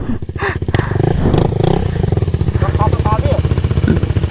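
Motorcycle ridden off-road on a rough climb, its engine loud and close with a buzzing, revving drone and rattling clatter throughout, while voices call out over it.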